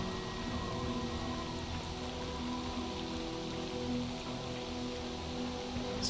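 Steady rain falls in the S.T.A.L.K.E.R. Anomaly video game, a dense continuous patter on surfaces at even loudness throughout, with no talking.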